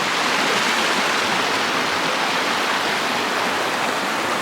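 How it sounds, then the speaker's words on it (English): A river stream rushes beneath a log crossing on the Bumpin River along the Pacific Crest Trail, a loud, steady, close broadband wash of flowing water with no pauses. "Nice stream."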